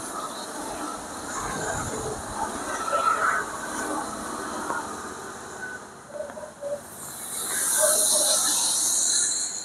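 Coconut oil sizzling in a hot cooking vessel during Kerala food preparation: a steady, moderately loud hiss that swells toward the end, with faint voices in the background.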